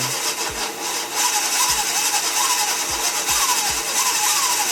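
A 72V electric motor on a mini bike converted into a wakeboard and snowboard tow winch roars steadily and loudly for the whole stretch, with a broad whining hum and a few low thumps, and no talking.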